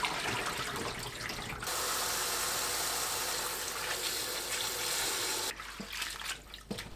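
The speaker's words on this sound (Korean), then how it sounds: "건 곤드레는 물에 가볍게 헹궈냅니다" Dried gondre greens are lightly rinsed in water, giving a steady rush of splashing and running water that eases off near the end with a few soft knocks.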